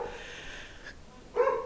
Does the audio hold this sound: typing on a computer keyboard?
no